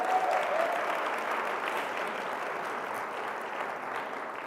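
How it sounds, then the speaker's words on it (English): An audience applauds the musicians at an evening speaker series on multilingualism, a steady, dense wash of clapping that holds evenly throughout, moderately close with no voices on top. "Let's give the musicians another round of applause."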